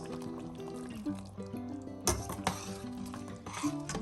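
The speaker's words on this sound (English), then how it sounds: "Now we have to stir this." Chana daal lentils are stirred in a pot, soft wet squelching and scraping with a few clinks of the spoon against the pot, faint and close, with no voices over it.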